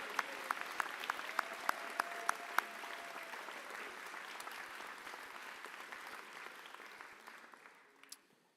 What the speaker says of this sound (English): Let's give our grads a little round of applause for finishing.